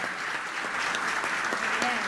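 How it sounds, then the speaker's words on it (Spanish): An audience gives dense, sustained applause to a speaker at an ethics conference on a gender identity law. The clapping carries evenly throughout without a break. "Fuerte el aplauso entonces"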